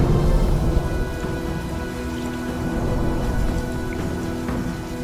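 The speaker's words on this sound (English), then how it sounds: "Soft rain fell across the land, gently washing away the layers of ash." Soft rain falls steadily across open land, a dense, even patter of drops held at a constant moderate level from start to finish with no distinct pauses.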